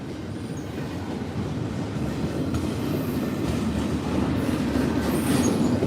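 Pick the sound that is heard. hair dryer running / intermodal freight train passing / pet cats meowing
intermodal freight train passing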